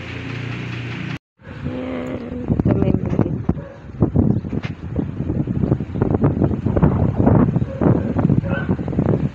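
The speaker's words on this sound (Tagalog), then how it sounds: "Grabing hangin ngayon. Sobrang hangin." Strong wind buffets the microphone outdoors in a flower garden, a loud, continuous gusty roar after a brief drop-out, with speech mixed in underneath.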